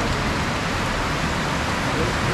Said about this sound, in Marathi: सध्याचं वातावरण खूप पाऊस आहे